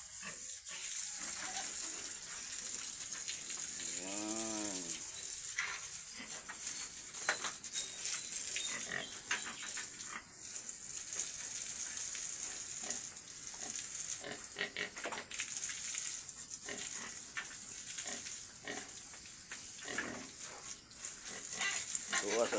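Pigs on a farm being washed with water: a fairly quiet, continuous spray and splash runs throughout, with a short squeal from a pig early on and an occasional voice in the background.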